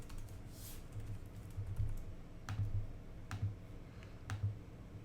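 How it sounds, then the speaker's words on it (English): Keys on a computer keyboard are tapped at close range, short irregular bursts of soft clicks with pauses between them while Objective-C code is entered on a Mac. "And I'm going to type,"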